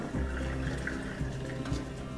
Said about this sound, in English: we'll just strain these, strain the water out.